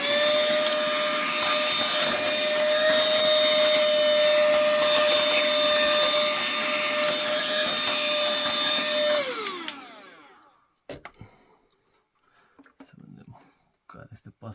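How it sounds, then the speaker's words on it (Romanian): Vacuum cleaner whines loudly and steadily while cleaning inside an opened PS3 console, then winds down and shuts off, followed by a few faint clicks and handling sounds; someone speaks over it. "Așa, mai aspirăm un pic."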